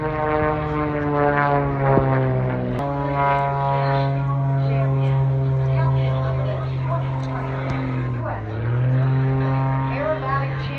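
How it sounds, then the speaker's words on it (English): Aerobatic propeller airplane performing at EAA Oshkosh in Wisconsin, a loud sustained engine drone that rises and falls in pitch as it maneuvers, with an announcer talking over it throughout. "the plane that Jim is flying today"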